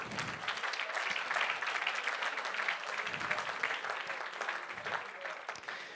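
An audience applauds student project winners at a prize ceremony, with steady, moderately loud clapping throughout and a few voices faintly mixed in.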